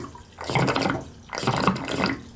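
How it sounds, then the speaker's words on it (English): Water drains from a gas boiler's faulty expansion tank in two close, gushing surges of rushing flow, each lasting under a second, with no talking. "You don't want to open it too much because then the water will start squirting out. We're draining that tank down."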